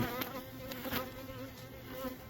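Bees buzz steadily around an insulated hive outdoors, a continuous close droning hum with a few louder passes near the listener.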